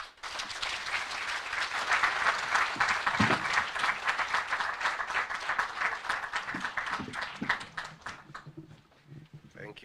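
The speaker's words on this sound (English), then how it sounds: "let's be upstanding with a better applause to invite our Deputy President, Honorable Rigathi Gachagua" Standing audience applauds to welcome Kenya's Deputy President Rigathi Gachagua at a youth employment and entrepreneurship launch, with sustained, dense clapping that stays loud for several seconds and then thins out toward the end.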